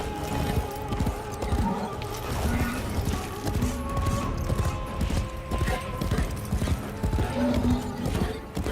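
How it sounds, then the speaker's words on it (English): A robotic horse gallops in the Warframe video game, its hooves clip-clopping in a fast steady rhythm over busy game sounds and music, loud and continuous throughout. "It's a good job this is a robotic horse. Otherwise it would be awfully tired. And you really wouldn't want to gallop a horse in this fashion."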